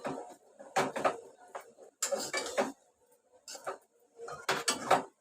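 A spoon scrapes and clatters against a pan while sesame ladoo syrup mixture is stirred over low gas, in short uneven bursts of metallic stirring with quiet pauses between them, close up and with no voices.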